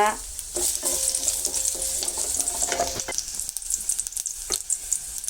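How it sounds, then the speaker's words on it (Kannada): Onions sizzle loudly in hot oil, a steady close frying hiss broken by repeated clinks and scrapes of stirring against the pan. "ಒಂದು ಪಾತ್ರೆ ಇಟ್ಟು ಅದಕ್ಕೆ ಸ್ವಲ್ಪ ಎಣ್ಣೆ ಹಾಕಿ ಈರುಳ್ಳಿ ಹಾಕಂತಿದ್ದೀವಿ ಫ್ರೈ ಮಾಡ್ಕೊಳ್ಳೋಣ ಅಂತ"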